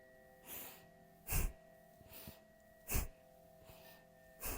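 Rapid, forceful nasal exhales of kapalabhati yoga breathing during a standing morning practice, heard as four or five short sharp bursts of air at irregular intervals, close and fairly quiet with soft breaths between them.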